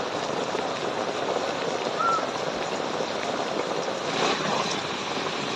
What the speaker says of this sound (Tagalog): Sobrang lakas ng ulan, hindi po tayo makapag-deliver.